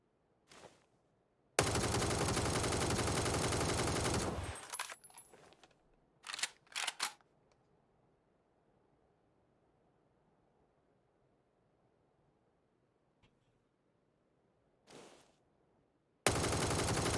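Automatic gunfire in PUBG on console, with two long, loud, sustained bursts and a few short shots between stretches of near silence.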